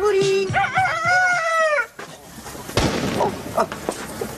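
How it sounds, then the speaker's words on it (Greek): A rooster crows loudly and close by in a single long call, followed by rustling and scattered thumps as the call breaks off. "Αγρίεψαν ο κόκορας ρε μπαμπά."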